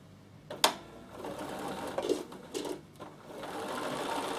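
Bernina sewing machine stitching down an appliqué mitre corner on a chalkboard cushion, a steady close whirr of needle strokes with a few brief louder knocks and pauses, no voices.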